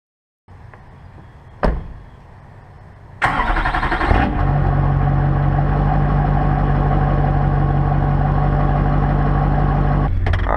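An LB7 Duramax diesel pickup truck engine, fitted with a Hypertech tune, cranks and fires up after a couple of clunks, then settles into a loud, steady rattling diesel idle that runs unbroken until a final knock near the end.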